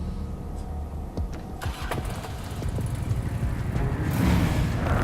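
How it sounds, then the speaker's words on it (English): In an episode of the animated show RWBY, a motorbike engine kicks over and builds into a rising, throaty rev, swelling louder toward the end. "Motorbike through that portal."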